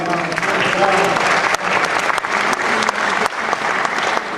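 Sustained applause and cheering from a large theatre audience at a gala, loud and continuous with dense clapping, a few shouts rising over it, and some voices mixed in throughout.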